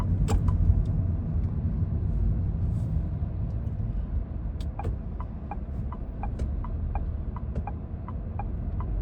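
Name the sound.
car driving in city traffic in Riyadh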